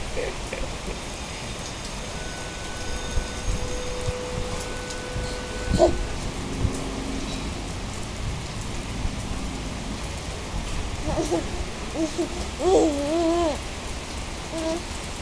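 Steady rainfall patters across a surface, with distant rumbles and a few faint animal calls in the background.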